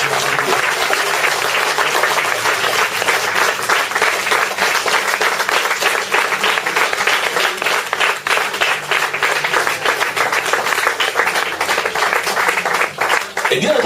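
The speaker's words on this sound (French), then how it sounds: "Est-ce que tu peux acclamer le Seigneur?" Dense, sustained applause with cheering from a crowded audience at a church seminar on anointing, steady and loud throughout with clapping filling the room.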